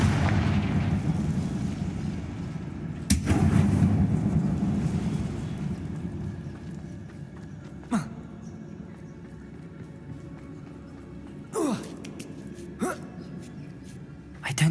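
The Confringo blasting spell is cast inside a tomb in the video game Hogwarts Legacy, setting off booming blasts, one heavy explosion followed by several sharper cracks spaced over a low, rumbling background.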